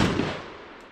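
Single shot from a Charles Daly Honcho tactical semi-auto shotgun, a sharp loud close blast that decays quickly within a second.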